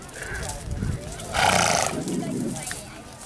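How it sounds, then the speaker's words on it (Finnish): A horse snorting and blowing through its nostrils at a rural event, a breathy burst near and fairly loud in the middle, with nearby movement and low background sound around it. "Tässä näkee, kun tää purskuttaa tää hevonen"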